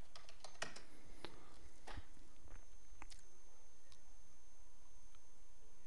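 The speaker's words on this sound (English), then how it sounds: "If I can type." Typing on a computer keyboard, a few quick irregular clicks and taps close to the microphone over a steady low background hiss.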